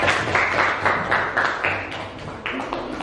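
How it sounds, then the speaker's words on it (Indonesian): An audience claps for a presenting group at an Indonesian teachers' academic supervision coaching session, steady mid-room applause sustained throughout with scattered sharper claps. "Oke, berikan aplaus untuk kelompok."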